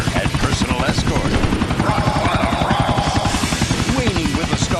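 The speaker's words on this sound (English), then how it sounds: "It sure is great to be driving a chopper for fun" Helicopter flying in the video game GTA IV, with a steady, loud rhythmic rotor chop throughout and a game voice talking over it.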